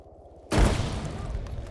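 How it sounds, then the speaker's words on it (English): A single loud grenade blast lands abruptly after a quiet stretch in a military training drill, with a heavy low boom followed by a long rumbling decay. "Is that a friendly nade?"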